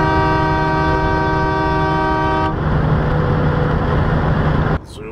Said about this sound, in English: Blow the air horn at them